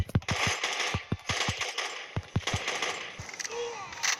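Gunfire in the mobile shooter Blitz Brigade: rapid bursts of game gun shots with a steady rhythm over busy game noise, while someone talks excitedly over the action.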